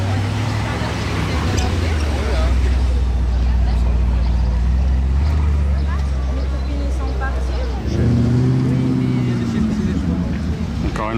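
Mercedes-AMG GT passing on a street in Monaco: a deep engine rumble that swells and fades, then a second rising engine note, mixed with traffic and crowd chatter as someone talks over it.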